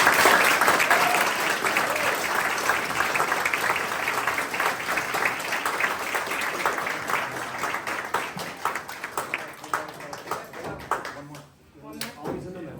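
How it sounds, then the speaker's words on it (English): An audience applauds at a Civil Air Patrol charter and cadet promotion ceremony in Flagler County; dense clapping that thins toward the end into scattered individual claps, with some voices mixed in. "Round of applause."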